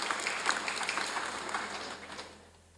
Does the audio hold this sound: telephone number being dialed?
no